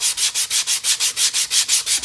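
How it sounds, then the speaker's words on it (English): Yellow foam being sanded by hand with 120 grit sandpaper, a close, loud rhythmic rasp of about ten even back-and-forth strokes, each a bright hissing scrub with brief gaps between, no voices. "start cupping and start coming in and sanding our final shape"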